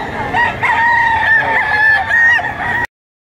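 A white Kelso gamecock crows loudly and close by, a long wavering cock-a-doodle-doo that cuts off abruptly, with some clucking around it.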